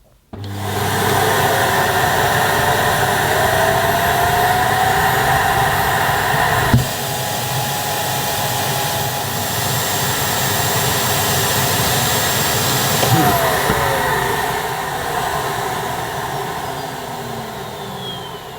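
A Philips Tri-Active bagless vacuum cleaner runs with its airflow restricted, giving a loud, steady roar close by. The pitch shifts abruptly a couple of times as the suction relief valve kicks in.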